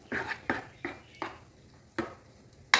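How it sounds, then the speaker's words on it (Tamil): Rava idli batter with grated carrot is stirred in a bowl, giving about six separate soft clinking scrapes of a spoon against the vessel, spaced unevenly and fairly faint; no voices. "போட்டுட்டு நல்லா கலக்கணும்"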